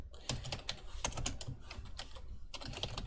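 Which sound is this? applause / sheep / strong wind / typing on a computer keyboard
typing on a computer keyboard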